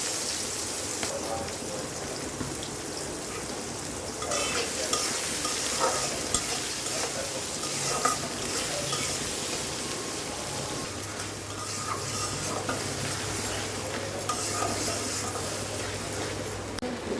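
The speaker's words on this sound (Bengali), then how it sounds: "ফোড়নে দিয়ে দিলাম আস্ত গরম মশলা, এলাচ, দারচিনি আর লবঙ্গ" Whole spices (cardamom, cinnamon sticks and cloves) sizzle in hot oil for a meat curry, a steady close frying crackle with stirring scrapes throughout and a low hum underneath.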